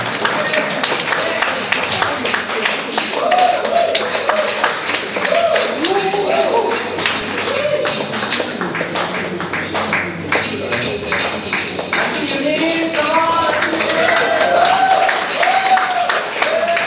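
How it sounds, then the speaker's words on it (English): Church audience at a Sunday service claps continuously, a dense, steady patter of many hands with crowd voices and chatter mixed in throughout. "Keep clapping until she stands here."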